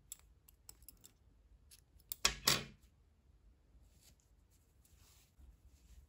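Scissors snipping thread during knitting, a brief close double snip standing out against a near-silent background with a few faint clicks.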